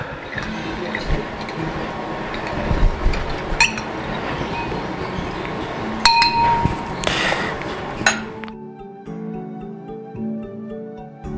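A spoon stirring turmeric, ginger and milk jamu in a glass, with repeated bright clinks against the glass over a steady liquid swirl, ending in a few sharper taps.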